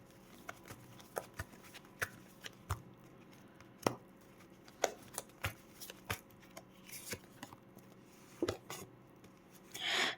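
Tarot cards shuffled and laid down on a table, soft scattered slaps and papery flicks at an irregular pace, quiet and close, ending in a brief louder rustle.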